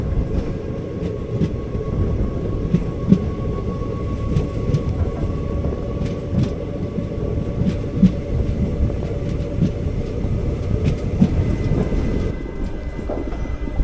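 The 06061 Summer Special Express rolls into a loop line, heard from on board as a steady heavy rumble with regular clacks of wheels over rail joints and a sustained tonal whine, continuous and loud throughout.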